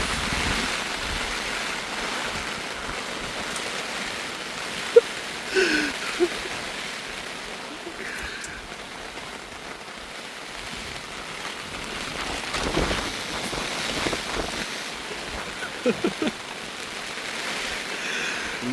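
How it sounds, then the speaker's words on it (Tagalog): Heavy rain and strong wind batter camping tents in a storm at Viewscapes in Tanay, Rizal, a steady broadband rush with occasional gusts and flapping thumps, no speech. "pumasok na kami sa mga tent namin kasi sobrang lakas na ng ulan. Tapos sobrang lakas na rin ng hangin."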